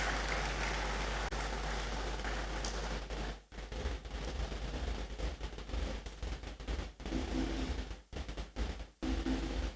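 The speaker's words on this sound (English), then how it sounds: "Please let's welcome him with a round of applause." Audience applause at a university Vice-Chancellor's academic awards ceremony, a dense steady wash of clapping that runs nearly ten seconds, with a few short dips and breaks near the end.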